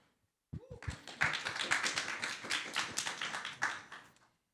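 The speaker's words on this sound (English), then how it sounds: "round of applause to you guys" Audience at a client summit claps in a dense, steady burst of applause that starts suddenly and fades out after about four seconds.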